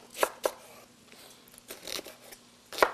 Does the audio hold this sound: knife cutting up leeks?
yes